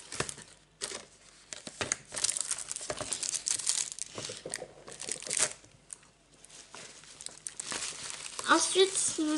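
Tissue paper crinkling and rustling during a paper craft subscription box unboxing, close irregular bursts of crackle throughout while someone talks.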